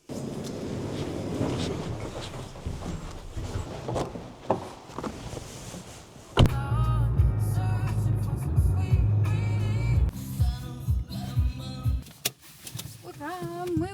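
Inside a car pulling into a Lidl supermarket parking lot, there is a low engine and road rumble with a few clicks and thumps. Someone talks over it, and music comes in partway through.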